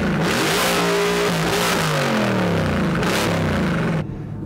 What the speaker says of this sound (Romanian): Pot să spun că se aude prea tare evacuare